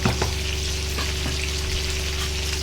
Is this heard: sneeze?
no